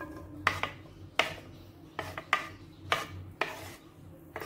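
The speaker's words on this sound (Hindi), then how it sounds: "तो सबसे पहले हम इसमें ये जो ब्रोकोली हमने कट कर ली है वो डालेंगे।" Chopped broccoli tossed into olive oil in a metal kadhai and stirred, giving several sharp scraping and clinking strokes of a spoon against the pan at an uneven rhythm over a low background hum, close up with no talking.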